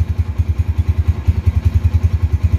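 An original 2007 motorcycle engine warms up close by, giving a loud, steady rhythmic thumping pulse with low mechanical clatter and no voices.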